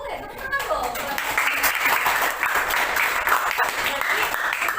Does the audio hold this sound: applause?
yes